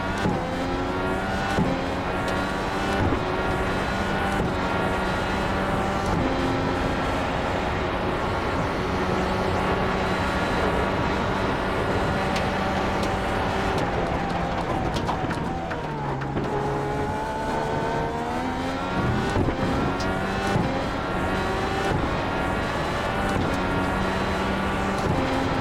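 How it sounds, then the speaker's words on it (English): The engine of a Dallara IR-18 race car in iRacing screams at high revs, its pitch climbing and dropping sharply with each shift of the not-quite-seamless 6-speed gearbox, loud and continuous throughout. "You'll notice the action on that 6-speed gearbox. It is not quite seamless."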